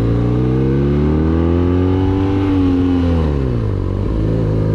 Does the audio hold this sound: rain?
no